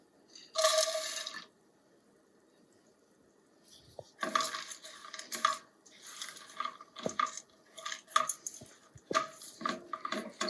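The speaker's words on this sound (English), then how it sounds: "So here goes my dry fruits." Dried fruits tipped into a pan on the stove for dried fruit rolls: a short crisp rattling pour near the start, then after a pause a stretch of scraping, stirring clatter with sharp clicks and knocks.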